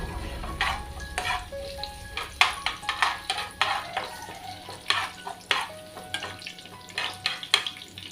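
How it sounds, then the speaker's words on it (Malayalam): Onions and curry leaves fry in a pan for onion pickle while a spoon stirs them, with soft sizzling under irregular scraping strokes and clinks against the pan, close by. "ഇതിലേക്ക് ഞാൻ രണ്ട് കരിവേപ്പിലയും കൂടെ ചേർക്കുന്നുണ്ട് നമുക്ക് ഇളക്കി കൊടുക്കാം"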